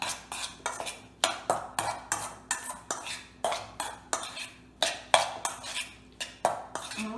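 A utensil scrapes and taps rhythmically against a bowl while avocado is mixed with lime and sriracha for taco toppings, with quick, regular, fairly quiet strokes at close range and no speech.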